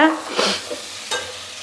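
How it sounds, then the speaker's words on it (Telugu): Spice powders stirred into a hot cooking pan, giving a few soft scraping strokes over a low, steady sizzle, close and alone without talk. "ఇప్పుడు మనం వేసుకున్న పొళ్ళంతా కూడా ఇలా అయితే కలిపేసుకోవాలండి ఇలా కలుపుకోవడం వల్ల పచ్చివాసన పోతుందన్నమాట"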